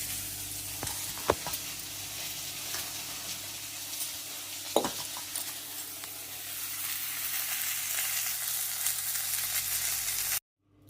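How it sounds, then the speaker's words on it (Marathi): Cumin seeds sizzle in hot oil for a tempering, a dense, steady frying hiss close by with a couple of sharp clicks from the pan, then it cuts off abruptly near the end, with no talking. "फक्त जिऱ्याची फोडणी करायची, मोहरी घालायचं नाही."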